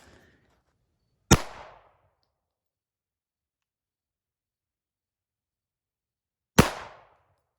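Two sharp Walther PDP pistol shots fired at targets, loud and close, each with a short decaying tail, spaced about five seconds apart with silence between them.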